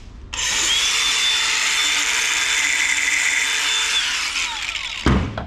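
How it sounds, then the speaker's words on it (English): An angle grinder runs against an aluminum tool box in one continuous loud, harsh whine for about five seconds, then stops with a clunk. "I'm going to check it with the grinder"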